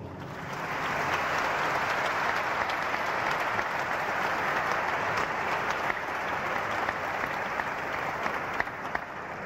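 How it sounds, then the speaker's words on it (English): Sustained audience applause after a religious debate between a sheikh and a bishop, a thick roar of many hands clapping continuously in a large hall, steady and fairly loud for about ten seconds. "I think they need your applause"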